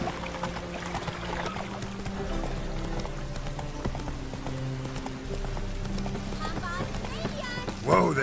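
Hooves of the horse Roach clip-clopping steadily in The Witcher 3, the galloping rhythm continuous under game music and ambience, with a brief voice near the end.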